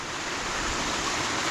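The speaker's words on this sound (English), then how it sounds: "the water cascading down here, look, it's just dropping straight into the river" Broad, steady rushing roar of a waterfall pouring straight down into a river, dense and continuous noise close to the listener with no other sounds.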